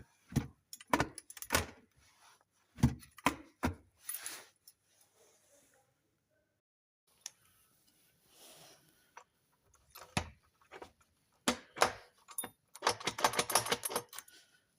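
A code-cut key for a Phoenix/Diplomat safe works the lock, giving clusters of sharp metallic clicks and rattles, a quiet gap in the middle, then a denser burst of mechanical clatter close up.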